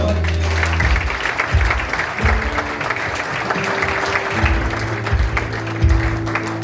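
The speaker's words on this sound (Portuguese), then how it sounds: "Vamos aplaudir ao Senhor." Church congregation applauding during a worship service, a lively wash of clapping mixed with low-pitched voices and a sustained musical tone underneath, steady and fairly loud throughout.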